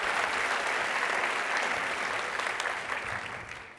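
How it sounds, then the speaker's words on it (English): Steady applause from a conference audience at SXSW 2019 fills the room, dense and even for several seconds, thinning slightly toward the end. "I like the applause."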